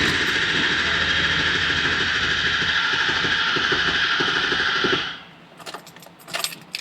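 A 2011 Ford 6.7 Powerstroke diesel engine, previously knocking, runs with a steady loud rumble and hiss for about five seconds before cutting off, followed by faint clinks and rattles.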